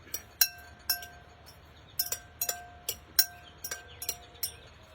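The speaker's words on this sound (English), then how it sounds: "So I'm going to stir that up a little bit." Ingredients being stirred in a dish during a cooking class, giving about a dozen bright, ringing clinks of a utensil against a glass or ceramic bowl in an uneven rhythm, close and fairly quiet with no speech.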